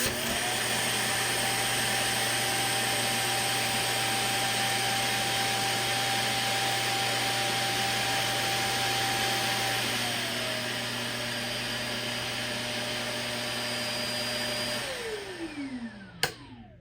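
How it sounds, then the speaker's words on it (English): A Shark Detect Pro vacuum's dock runs its suction, pulling dirt from the vacuum into the bin. It makes a loud, steady motor whine that holds for about fifteen seconds, drops in pitch as it spins down, and ends with a click. "it is going to suck all of this dirt and put it into the bin inside"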